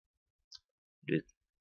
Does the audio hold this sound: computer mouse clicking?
yes